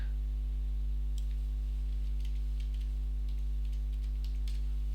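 Fingers tapping a computer keyboard in quick, irregular bursts of soft clicks, faint beneath a steady electrical hum.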